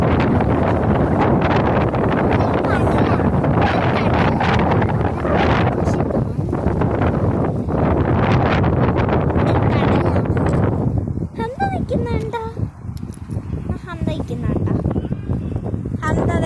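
Strong wind buffeting the microphone outdoors, a loud continuous roar that gusts throughout before easing slightly toward the end, with voices talking intermittently underneath.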